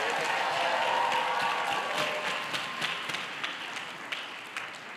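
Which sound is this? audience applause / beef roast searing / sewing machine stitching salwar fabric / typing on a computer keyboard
audience applause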